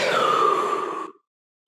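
A single long, audible breath is let out during a flexibility stretch, a soft airy exhale lasting about a second before silence.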